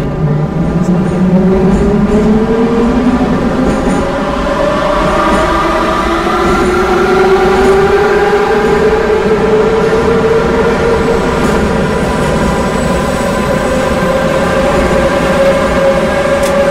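A Moscow metro train on the Nekrasovskaya line pulls out of Kosino station, a loud continuous rumble with rising and falling motor whine, wheel noise and rail clatter filling the whole stretch, no voices.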